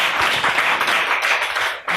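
Audience applause at an event honoring a woman's work, a steady wash of many hands clapping, fairly loud and close, with scattered voices mixed in.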